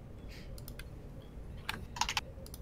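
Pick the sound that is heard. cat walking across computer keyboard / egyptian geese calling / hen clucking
cat walking across computer keyboard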